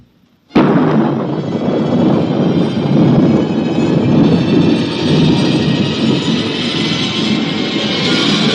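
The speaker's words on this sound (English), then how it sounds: "Countdown for blast off. X minus 5, 4, 3, 2, X minus 1," A rocket blast-off rendered as a sudden loud explosive roar that bursts in after a near-silent start and holds as a sustained, thick rumble to the end, a radio sci-fi launch effect.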